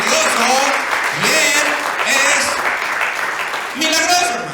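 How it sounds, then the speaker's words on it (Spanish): A church congregation applauds during a sermon, a steady wash of clapping running under a preacher's loud, impassioned voice. "denle un aplauso a Jesús, hermanos, porque Él se lo merece todo"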